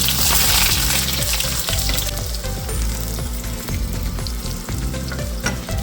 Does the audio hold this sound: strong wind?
no